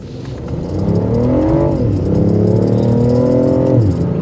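A BMW i8 plug-in hybrid convertible accelerates hard, its engine note rising loud and close in two sweeping pulls with a brief dip between, sustained and throaty over about four seconds.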